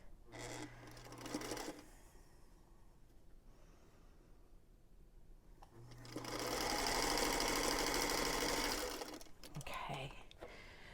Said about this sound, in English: we're just going to stitch down our little 1/4 inch to join these 2 units